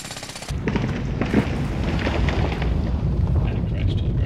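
A big drill in the video game Build A World tears down a windmill, giving a dense, sustained rumbling crunch that kicks in abruptly after a half-second and keeps grinding loudly to the end.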